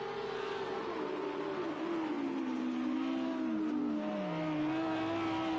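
A race car in Project CARS 2 at Donington Park works through its gears during an overtake, with a continuous engine drone and a falling pitch as it lifts and shifts, steady and close with no voices.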